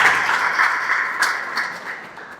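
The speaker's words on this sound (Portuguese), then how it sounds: "Você pode aplaudir Jesus?" A church congregation claps for Jesus in a sustained, fairly loud wash of applause that tapers off gradually toward the end.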